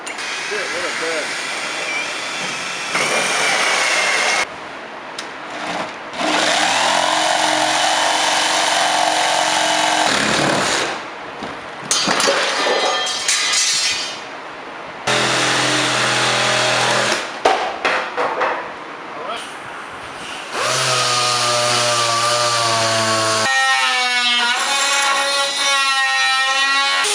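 A loud power tool grinds and whines in long bursts, cutting out the transom of a Sea Ray 270 boat, with pauses between passes and shifting pitch as it bites.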